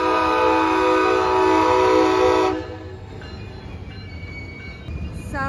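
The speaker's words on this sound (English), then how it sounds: "So many trains." Several trains pass beside a bike trail on the GAP and C&O route, opening with a loud, sustained, droning horn blast that gives way after a few seconds to steadier rail rumble and rolling wagon noise, with no talking.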